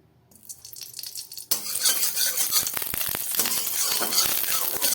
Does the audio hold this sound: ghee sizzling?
yes